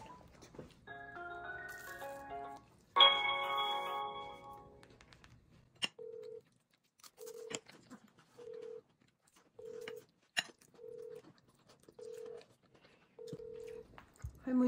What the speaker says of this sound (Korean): 할머니 특 전화 안 받음.